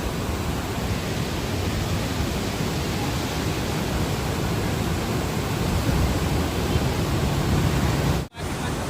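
A river at Vijayawada rushing in full flow toward the sea, a loud, dense, unbroken roar that cuts out briefly near the end.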